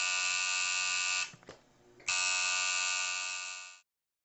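A tattoo shader machine runs with a steady, loud electric buzz, briefly cutting out mid-way before resuming and then stopping.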